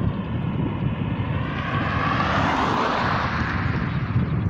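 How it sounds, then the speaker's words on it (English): A fixed-wing aircraft roars outside Grantley Adams International Airport in Seawell, Barbados, a loud broad engine rumble that swells toward the middle and stays steady, with no voices. "here again outside the Grantley Adams International Airport in Seawell, Christchurch, Barbados"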